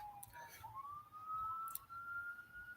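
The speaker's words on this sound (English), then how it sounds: "I don't know if you can hear those sirens or not. They're going down that way, down by the river." Emergency vehicle sirens pass down by a river, a faint, distant wailing tone slowly rising in pitch over a low outdoor rumble.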